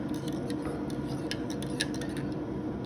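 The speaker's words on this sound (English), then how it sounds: "we just keep stirring it around for a little bit" A spoon stirs bone broth and cinnamon into a mug of coffee, giving a steady run of light clinking and scraping ticks against the cup, close and fairly quiet.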